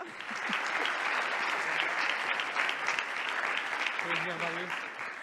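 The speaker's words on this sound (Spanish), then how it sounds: "Un aplauso para él, hombre, que así ha improvisado." Sustained audience applause at a round-table panel on building a strategic space sector, dense and steady throughout, with a voice speaking over it near the end.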